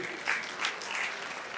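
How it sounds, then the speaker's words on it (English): A conference crowd claps steadily for a short moment, a dense burst of applause with no talking. "A round of applause once again."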